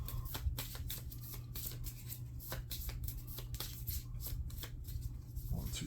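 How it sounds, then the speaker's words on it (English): Playing cards drawn and handled during a solo game of The Witcher Old World board game, giving a run of quick papery flicks and slides over a steady low hum, close and moderately loud, with no voice. "We're going to draw 3 cards here"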